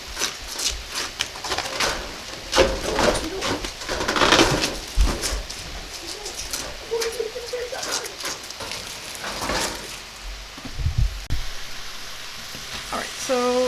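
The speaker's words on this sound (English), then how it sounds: "sizzling here a little bit" Steady sizzling and crackling of jarred garlic frying in a pan, continuous and fairly close, with occasional clinks and scraping of a utensil.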